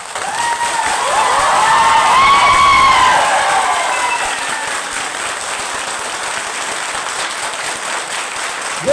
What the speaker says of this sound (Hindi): बहुत जोरदार तालियां बजाते हैं